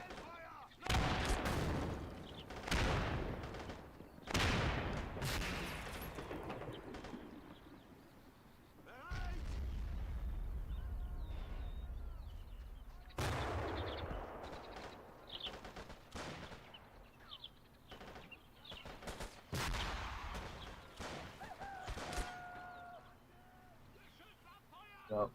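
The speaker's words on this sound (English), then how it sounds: "Mortar now being used to try and create space here for Sky. As he tries to secure this middle down. And the grenade wars do continue." Mortar rounds and grenades burst repeatedly in a 1v1 tournament match of a war strategy game, loud booms and gunfire cracks in irregular clusters with one long rumbling stretch, a commentator's voice running under the action.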